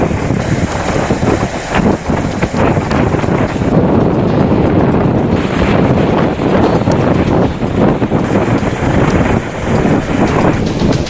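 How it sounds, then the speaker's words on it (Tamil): Strong wind roars continuously over a rough, churning sea during heavy monsoon-season weather, a loud broadband rush that gusts and buffets the microphone throughout with no voices. "கடும் காற்று வீசி வருவதுடன் கடல் பகுதிகளும் கொந்தளிப்பாக காணப்படுகின்றன."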